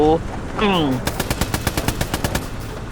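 Rapid bursts of machine-gun fire in the WWII shooter Hell Let Loose, a run of about a dozen sharp shots following a brief voice, loud and close.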